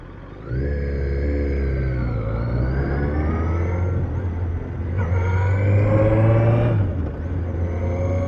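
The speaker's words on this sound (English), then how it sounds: "Just going to give her a bit of a blowout because poor little girl's not been started in a while." A 2001 Suzuki GSX-R 1000cc motorcycle, 22 years old and not started for a while, revs loudly up close, its engine note rising and falling in several throttle blips over a steady idle.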